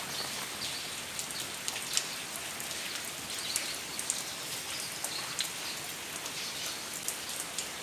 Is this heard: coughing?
no